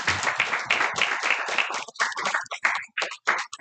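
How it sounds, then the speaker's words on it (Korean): Congregation clapping during a Korean church gathering, a loud burst of hands that thins into scattered, separate claps toward the end. "박수!"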